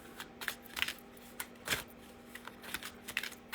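A deck of tarot cards being shuffled by hand, with a series of crisp riffling and flicking bursts in uneven rhythm, close and fairly quiet, with no talking.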